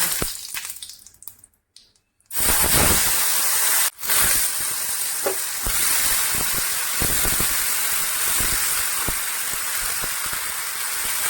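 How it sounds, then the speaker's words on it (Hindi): Loud, steady hissing sizzle bursts in after a quiet moment as potatoes drop into hot oil with browned cumin, crackling continuously with a brief dip partway through. "अब इस आलू को ऐसे पकड़ करके हम डालेंगे।"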